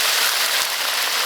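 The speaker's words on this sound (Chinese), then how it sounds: "牛蛙下锅炸" Bullfrog pieces deep frying in hot oil in a village kitchen give a dense, steady crackling sizzle, close and loud, with no talking over it.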